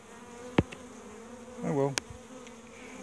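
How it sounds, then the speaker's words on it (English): Bees from a small swarm give a faint, brief buzz, with a couple of sharp clicks nearby and a short spoken remark. "These are really good bees in this town."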